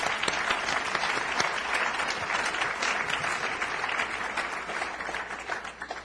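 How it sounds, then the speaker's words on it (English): Sustained audience applause at a university library dedication ceremony, many hands clapping in a dense, even wash that holds steady from start to finish at moderate distance. "By our applause, I'd like to thank all of these people"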